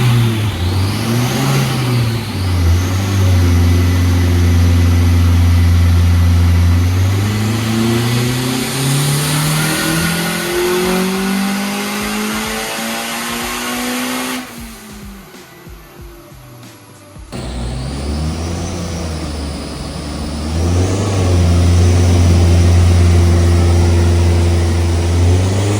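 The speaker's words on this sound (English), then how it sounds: "as I show you some of the footage of this car getting thrown on the dyno" A turbocharged Honda Integra engine revs hard on a dyno, loud and close, climbing steadily in pitch through a long pull before a sudden drop and short lull, then roaring back up again.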